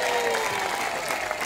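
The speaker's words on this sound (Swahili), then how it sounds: "wapi makofi ya senator tafadhali?" Audience applause for a senator at a live event, a dense, steady clapping that fills the whole moment with a faint crowd murmur underneath.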